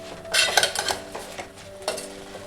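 Drumstick leaves (murungai keerai) being sautéed uncovered in a pan over a low flame, with clattering spatula scrapes and stirring knocks against the pan in a few irregular bursts, close up and without talk.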